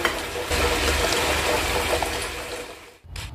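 Water is poured into ginger, onion and tomato, a steady gushing splash that runs continuously before stopping abruptly near the end with a brief final sound.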